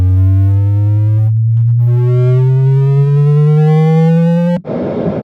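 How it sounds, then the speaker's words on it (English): A steady electronic calibration tone from a Boss guitar amp's cabinet resonance function glides slowly upward in pitch for several seconds, loud and alone, then breaks off into a short burst of noise at the end. "When you press this cap resonance calibration knob, the power amp will learn things about the cabinet and adjust the output for an optimal performance."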